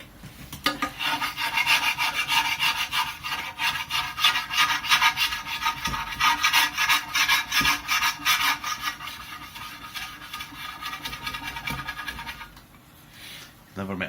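Algae being scraped off the glass of a fish tank, a close rhythmic rasping rub repeated in quick strokes for about twelve seconds before it tails off, with a voice talking over part of it.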